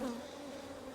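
Honey bees buzz steadily at brood frames of a hive, a dense, continuous droning swarm hum held at an even level throughout, with no voices.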